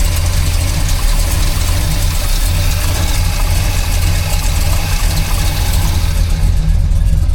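Close, steady idle of a hot rod truck engine, a dense low throaty rumble that holds even and unbroken throughout with no voices.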